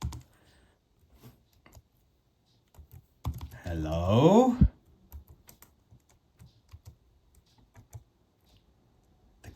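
Typing on the compact keyboard of a Pocket 386 palmtop PC, a run of small, quick key clicks scattered across the clip, with a brief loud vocal burst in the middle and a short spoken word.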